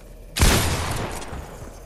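A single loud, close blast from a purple pump shotgun in Fortnite, a sharp boom that decays into a rumbling tail, heard alone with no talking.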